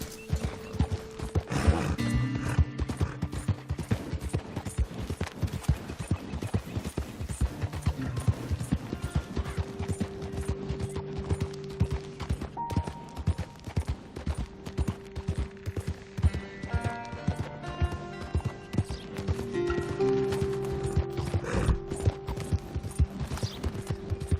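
Horse hooves clip-clop at a steady riding pace in Red Dead Redemption 2, mixed with in-game mechanical clicks, music and an occasional whinny, continuous and fairly close.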